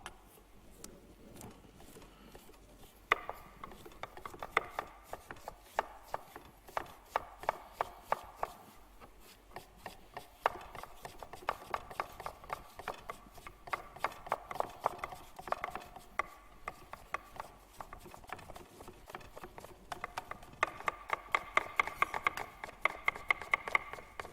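A knife slicing thin apple slices into julienne strips on a board, rapid steady chopping taps running throughout, fairly quiet and close.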